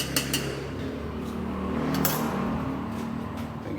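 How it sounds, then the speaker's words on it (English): Teriyaki rice and vegetables with freeze-dried beef are scraped from a pan into a bowl, with a few sharp metallic clinks at the start and softer scraping over a low background hum. "I'm gonna go ahead and transfer this to a bowl and just to get it off the heat of this pan"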